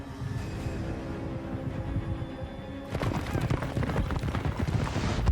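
Horse hooves clip-clop in a medieval fantasy game, The Witcher 2: Assassins of Kings, the rhythmic clatter growing louder and denser halfway through over a steady low background of game sound.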